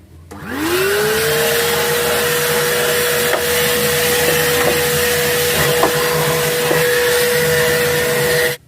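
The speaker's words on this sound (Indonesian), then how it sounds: "saya akan menggunakan vacuum cleaner yang untuk membersihkan jamur-jamur yang ada di box ini" Vacuum cleaner clearing mould from inside an 18-inch speaker box, a loud steady roar that spins up in the first second and holds a constant high whine, with occasional faint knocks and no talk.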